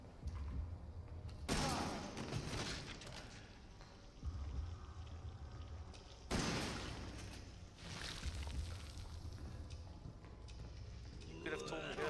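Gunshots go off in Resident Evil: Biohazard, with two faint, sharp bursts several seconds apart heard under a person talking over quiet game ambience.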